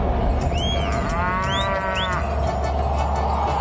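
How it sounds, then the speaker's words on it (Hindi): A water buffalo lows over steady broadband background noise, a drawn-out bovine moo with rising and falling tones, clear and fairly close, with no talking. "भैंसा चला गया।"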